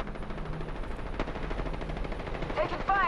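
Rapid automatic gunfire in the Apex Legends battle royale game, dense overlapping bursts throughout, with game sounds and brief tonal effects near the end.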